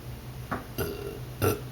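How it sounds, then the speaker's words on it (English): Three short, close burps follow one another about half a second apart in a quiet room, the last one loudest. "I'm practically just gonna burp for you."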